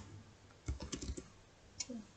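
Keys tapped on a computer keyboard in a quick burst of clicks, followed by a pause and one more keystroke, close and fairly quiet.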